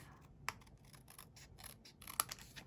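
Scissors cut pattern paper with quiet, soft snips and scratchy rustles, two of them sharper clicks, close up and faint, with no talking.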